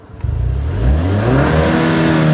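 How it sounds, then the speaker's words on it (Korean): A Maserati Ghibli GT Hybrid sedan's exhaust burbles at low speed, a deep engine note rising smoothly as the car pulls away, close and fairly loud. "저속에서는 확실히 이런 배기음 같은 게"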